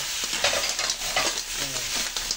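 Mussels frying in butter in a pan, with a steady close sizzle and light scraping stir strokes, no voices.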